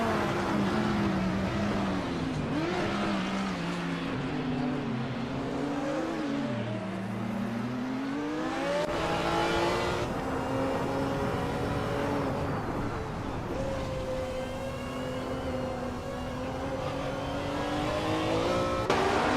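Race car engines revving continuously in a racing video game featuring cars like a 1985 Sauber C6, a steady, loud drone with rising and falling pitch as gears shift and cars battle closely, no voices.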